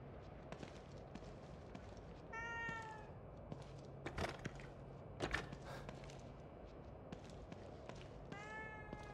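A cat in the video game The Evil Within 2 meows twice, clear and nearby, over quiet footsteps, thuds and low ambient game noise.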